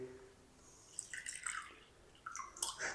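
Water splashing and trickling into a cooking pot for yakhni pulao, a soft, close pour in a few short bursts with quiet gaps between them and no talk.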